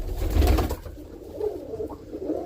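A roller pigeon cock, an older bird, gives soft low cooing in a loft, a few muffled throaty coos with a brief louder rumble at the start.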